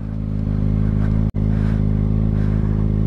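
A motorcycle revs loudly and close during a wheelie, its engine roaring with a steady strong drone and a brief sharp dropout midway before the roar resumes, with no talking.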